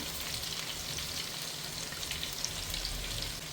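Ginger, garlic and green chili with small onions frying in a pan for a tuna head fish curry, a steady close sizzle with faint crackles running evenly throughout.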